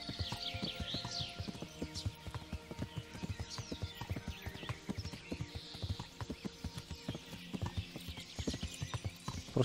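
Horse hooves clip-clopping steadily at a trot on a road in Kingdom Come: Deliverance, close and rhythmic, with a brief neigh and faint ambient birds behind; no speech.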